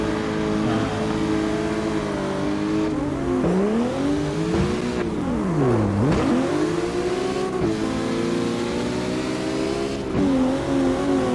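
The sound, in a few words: drift cars revving in CarX Drift video game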